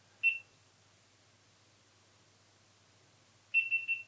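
A GoPro Hero7 Black camera beeps as it takes a photo: one short, clear beep, then after a quiet pause a quick run of three beeps, close and alone with no talk.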